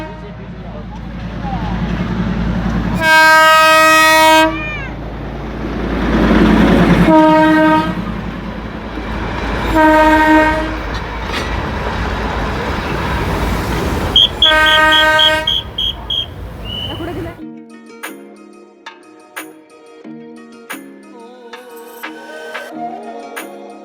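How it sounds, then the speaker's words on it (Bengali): The Darjeeling toy train passes at a hill station stop, rumbling loudly and close, sounding several long horn toots in a repeating pattern before clanking wagons fade, with people talking nearby. "এখানে টয় ট্রেন আসে, দাঁড়ায়, তোমরা ছবি টবিও তুলতে পারবে।"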